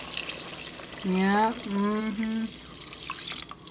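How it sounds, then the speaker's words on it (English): Water pours into a pot of chicken tinola with malungay, making a steady rushing splash throughout while a voice briefly speaks over it. "We gonna add 3 cups of water."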